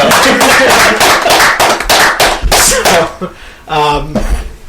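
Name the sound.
applause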